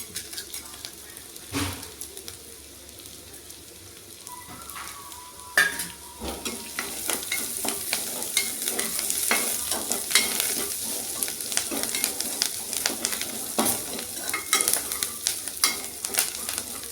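Lentils frying in hot oil, a dense, continuous crackling sizzle with frequent stirring scrapes and an occasional knock against the pan, close and fairly loud throughout.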